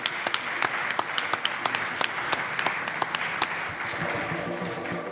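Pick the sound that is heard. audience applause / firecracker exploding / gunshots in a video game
audience applause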